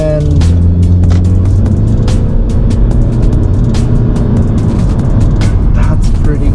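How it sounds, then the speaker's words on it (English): A 2019 Honda Civic accelerates on the road, its engine drone rising steadily inside the cabin, loud and constant, while a person talks over it. "there's pretty much no lag when it comes to stepping on the throttle and getting up to speed"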